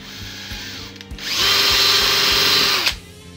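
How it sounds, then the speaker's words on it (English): A power drill with a 4mm wood bit bores into wood: a short whirring start, then a loud, steady high-pitched drilling whine for about a second and a half that winds down at the end, heard alone at close range. "I'm just gonna use a wood drill bit for that."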